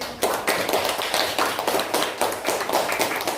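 A classroom of students claps for a group that has just finished its presentation, with quick, rhythmic bursts of applause repeating steadily, loud and close.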